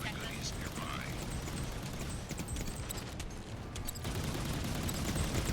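A barrage of gunfire in the video game Outpost Infinity Siege: a dense, steady roar of overlapping shots and blasts with sharp cracks scattered throughout, loud and sustained for the whole stretch.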